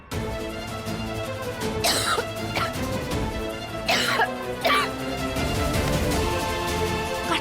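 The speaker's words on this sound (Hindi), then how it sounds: "अब खांसी रुकी नहीं रही है" A person coughs repeatedly in short, harsh bursts, with a couple of clustered fits between quieter pauses and a low background hum.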